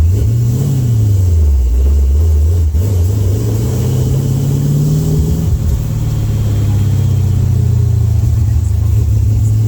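Pickup truck engine with an aftermarket muffler revving up and down, a loud, steady, close rumble with rising and falling pitch throughout.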